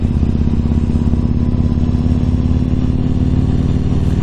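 Yamaha MT-01 motorcycle riding on a commute, a loud, close, steady low engine rumble with wind buffeting, holding an even note throughout without speech.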